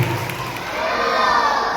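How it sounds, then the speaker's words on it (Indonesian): A congregation at a church Christmas service applauds the Sunday school children, a close, loud mix of clapping and cheering crowd noise that carries straight through without pause. "Mari kita kasih tepuk tangan buat anak sekolah minggu kita"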